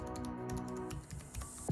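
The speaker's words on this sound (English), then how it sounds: "Oh, this is the mechanical keyboard." Mechanical keys on an Alienware X17 R2 gaming laptop keyboard being typed on, a quick run of light, close clicks and taps, fairly quiet, ending in a soft thump.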